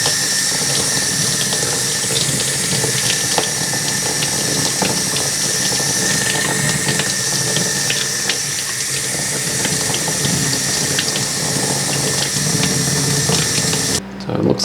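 Steady running water from a tap rinsing agar off tissue culture aquarium plants, a constant close splashing wash that stops abruptly near the end.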